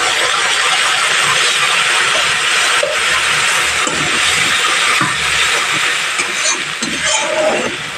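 Ginger garlic paste sizzling loudly in hot oil with browned fried onions on a gas stove, a steady bright hiss held throughout with faint stirring clatter and no talk.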